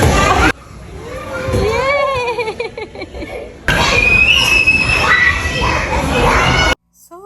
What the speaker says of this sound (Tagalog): naisipan namin na ipalaro ang chikiting sa playground